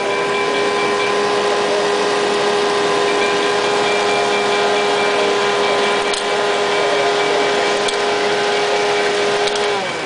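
An S-gauge model train log loader accessory runs on a layout module with a steady, loud electric motor hum and whine, lasting throughout with a few faint clicks.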